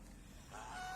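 A domestic farmyard goose gives a short honk at feeding time, rising out of low background noise in the second half; close and moderately loud.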